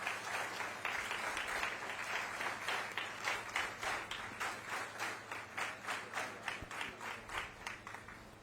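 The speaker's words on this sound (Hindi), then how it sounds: "आप तालियों से स्वागत करें" A government event audience in Chhattisgarh applauds to welcome the minister, broad clapping at first that settles into a slower, rhythmic unison beat before fading, heard at a distance and fairly quiet.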